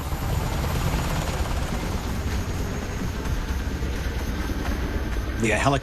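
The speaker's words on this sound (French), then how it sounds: "Les hélicoptères ont volé vers un premier site où se sont posés les 2 appareils de la force d'intervention rapide." Black Hawk and Chinook military helicopters in flight during a raid, a loud, steady rotor drone and thrum that continues unbroken throughout.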